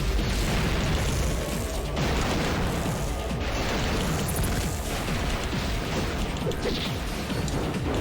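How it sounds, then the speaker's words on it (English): Gravity grenades exploding one after another in a video game produce a dense, loud, continuous wall of booms and crashing blasts with no break across the whole stretch. "shoot gravity grenades"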